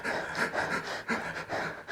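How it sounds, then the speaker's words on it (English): Quick, shallow panting breaths by a woman, about a dozen sharp in-and-out puffs in steady rapid rhythm, close and moderately loud. "So let us breathe shallow."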